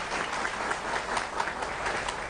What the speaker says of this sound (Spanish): esos aplausos que se escuchan son parte de los miembros de su comisión política